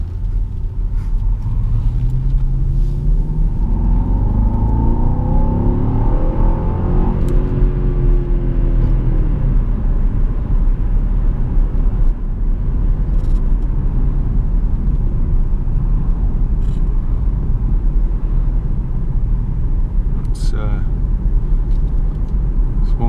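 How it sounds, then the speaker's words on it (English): A 2010 Jaguar XF 5.0 V8 S pulls away under acceleration, its engine note rising in a loud, building sweep over steady low road rumble for most of the stretch. "Awesome sounding engine."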